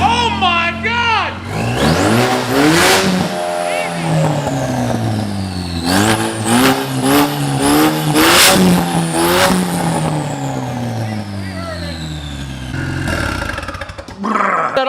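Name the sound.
engine running in a Mustang being revved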